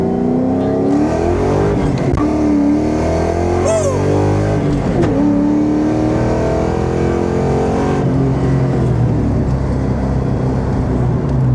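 A Cobra car accelerates hard on a rough, bumpy road, its engine loud and close as the revs climb, dip and climb again through the gears, with voices faint beneath the roar.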